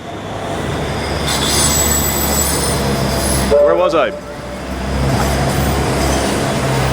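A tram rolls steadily past a tram platform with a loud, continuous metallic wheel squeal and rumble close by, while someone briefly speaks over the noise.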